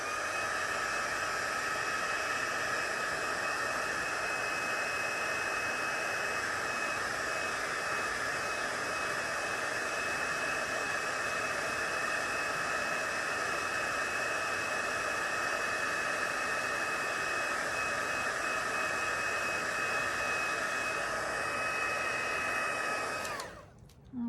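A heat tool blows continuously to dry wet red paint on a craft door tag, a steady loud whirring hiss with a constant tone lasting over twenty seconds before it cuts off abruptly at the end.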